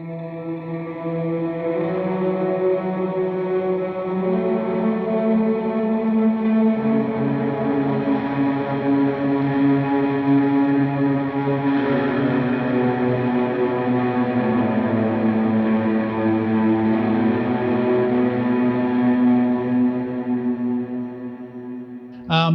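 A lead guitar drone for "He Arose" played through effects with the reverb fully wet, sustained washes of chordal tone that swell and shift pitch slowly, ringing out smoothly for about twenty seconds with no talking.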